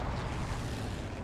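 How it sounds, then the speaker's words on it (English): A rocket from a strafe run hits in the World War II shooter Hell Let Loose, a loud, dense explosive rumble that roars steadily through the whole moment. "Strafe run coming in. Rocket ricochets."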